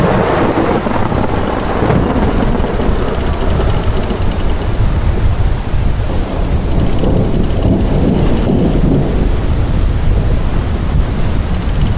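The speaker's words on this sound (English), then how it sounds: "Get ready for the storm." A heavy thunderstorm rages in the sailing video game WILL: Follow The Light, with dense, constant rain hiss and deep rolling thunder booming continuously at high volume, no voices.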